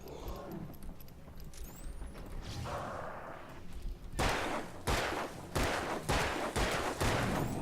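Gunfire in the horror action game Alan Wake: a burst of several loud, sharp shots in quick succession, preceded by quieter game ambience and whooshing.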